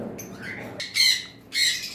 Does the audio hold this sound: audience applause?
no